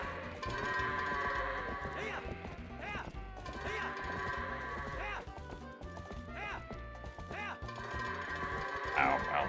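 Goats in The Legend of Zelda: Twilight Princess bleating repeatedly amid clattering hooves and crashing thuds over game music, with a voice talking throughout.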